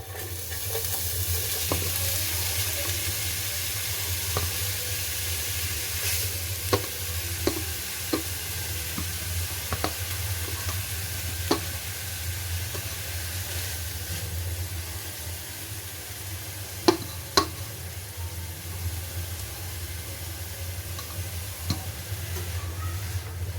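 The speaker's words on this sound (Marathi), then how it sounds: "आता आपण जी गाजरं किसली होती तो किस आपण त्यामध्ये टाकणार आहोत" Grated carrots fry in melted ghee for carrot halwa, making a steady, fairly loud sizzling hiss that runs throughout, broken by occasional sharp spoon clicks against the pan and no voices.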